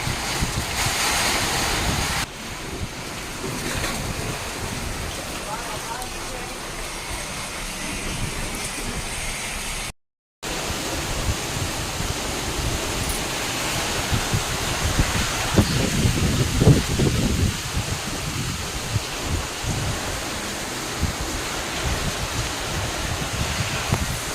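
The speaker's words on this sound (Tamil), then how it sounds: "சரியான மழை பிள்ளைங்களா, தாங்க முடியல. என்ன அடி என்ன அடிக்குது பாருங்க." A heavy, wind-driven rain downpour pounds in Chennai, making a loud, continuous roar with gusty swells and a brief dropout midway. No one speaks over the steady wash.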